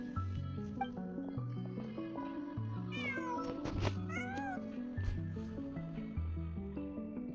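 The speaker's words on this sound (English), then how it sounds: "Just a cat." A cat meows in the video game Genshin Impact, set on a winter night. The meows are short and clear and sit over steady game music, with no voices.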